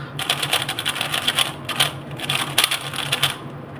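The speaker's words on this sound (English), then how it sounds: "for the V3 is actually very airy, has an airy feel to it and sounds very clacky" Clacky, airy keystrokes on a YJ Yuhu V3 mechanical keyboard, a steady run of close, bright clicks with brief pauses between bursts of typing.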